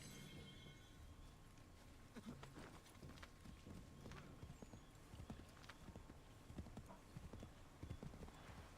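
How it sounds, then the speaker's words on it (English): Steady clip-clop of horse hooves trotting along in the video game Age of Mythology, a continuous rhythmic clatter with scattered clicks and a faint background hum, no talking. "Really, the horse can't move across?"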